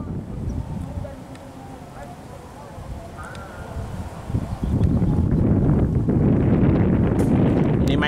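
Strong wind buffets the microphone outdoors, a rough low roar that grows much heavier and steadier partway through, with some speech and faint background sounds underneath.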